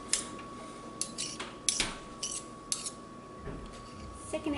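Spoons clink and scrape against a bowl while stirring a quinoa burger mixture, with a steady run of irregular metallic taps and scrapes close by.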